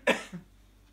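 A single short cough from a tickle in the throat, close and sharp, followed by a softer second catch, then quiet.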